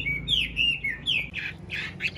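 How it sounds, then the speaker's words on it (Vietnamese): A tame Chinese hwamei songbird gives a quick run of bright, whistled chirps and trills, close and clear over a quiet background. "anh em có thể thấy đây là một em họa mi rất là thuần này"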